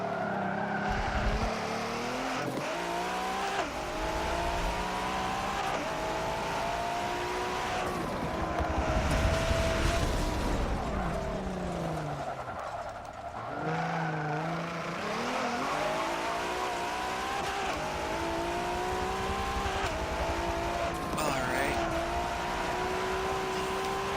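Supercar racing in Forza Motorsport 7 during an exotic GT series race, a loud engine whining and revving steadily through shifts for over twenty seconds, with tire squeal and skidding through corners, no talking.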